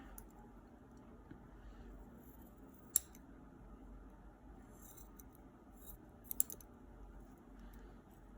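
Faint, quiet snips of scissors trimming yarn ends on a keychain, a few isolated crisp clicks spread over a low hush with no talking.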